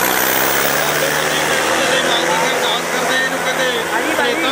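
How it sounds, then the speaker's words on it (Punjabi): A tractor engine runs loud and steady at a village rural sports fair tractor contest, a continuous rumbling drone close by, with a voice talking over it. "ਆਪਣੇ ਟਰੈਕਟਰ ਬਿਲਕੁਲ ਕਰੀਬ ਲਿਆਓ"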